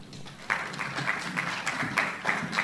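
A conference audience applauds the chair of a local governance forum, steady broadband clapping with regular accented bursts, moderately distant and sustained throughout.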